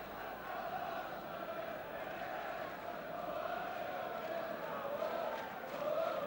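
A football stadium crowd at Tottenham in the late 1970s cheers and roars in a sustained, distant wash, fairly faint and steady, with a slight swell toward the end.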